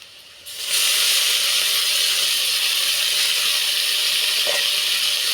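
Spinach-like greens dropped into a hot pan over softened chopped onions burst into a loud, steady sizzle that starts abruptly and holds, with a brief bubbling crackle near the end.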